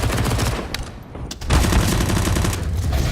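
SMG gunfire in a Counter-Strike match at IEM Katowice Major 2019, dense rapid bursts of automatic fire with a brief lull, then a heavy sustained volley, loud and close.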